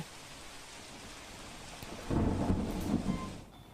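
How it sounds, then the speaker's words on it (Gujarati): Heavy rain pours down on Surat city, a steady hiss that swells into a louder, denser downpour with a low rumble partway through, then eases slightly. "જે રીતે સુરત શહેરમાં સાબલેદાર વરસાદ વરસી રહ્યો છે"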